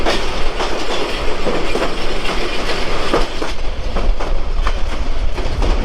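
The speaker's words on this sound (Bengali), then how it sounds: "আর এই হচ্ছে আমাদের ট্রেনের" Kurigram Express passenger train, which runs from Dhaka toward Kurigram, rumbles loudly along the tracks with continuous heavy roar and rhythmic clickety-clack of wheels, heard close from on board or beside it.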